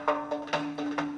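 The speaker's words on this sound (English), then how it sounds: "That's the sound of the gaval." Azerbaijani gaval frame drum struck in a few separate beats, each a sharp bright hit with a short ring, spaced irregularly over a steady faint tone.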